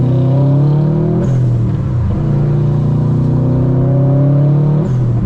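A Subaru WRX STI with a new downpipe and HKS blow-off valve revs up and drops back twice, its deep, loud exhaust rumbling nearby, with short hissy whooshes from the valve as each rev falls.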